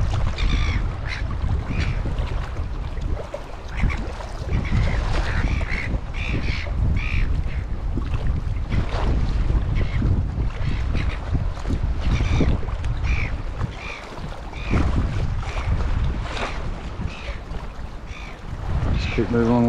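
Strong wind buffets a land-based fishing spot on the shore near Sydney, a steady loud roar with gusty rumbling throughout and occasional voices underneath.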